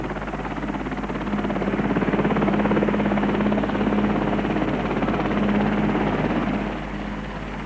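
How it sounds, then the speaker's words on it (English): An RAF helicopter hovering 200 feet above a chapel, its steady rotor and engine drone humming continuously at a constant distance, a thick unbroken roar with no voices. "The helicopter is now 200 feet up over the chapel."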